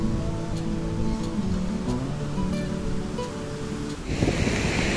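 Surf washing in at Nunggalan Beach in Bali, a hidden cove below cliffs and large coral rocks, with a steady broadband wash of waves that surges louder near the end and some low tonal hum underneath.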